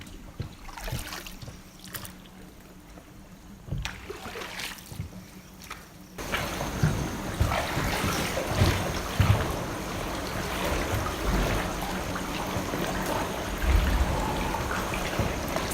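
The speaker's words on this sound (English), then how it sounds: "did some dinghy exploring through the caves, rowing through the caves" A dinghy rows through sea caves at Koh Hong, Thailand. Soft splashes and trickles of water come first, then a fuller, echoing wash of water and lapping sounds, all fairly close and moderately quiet.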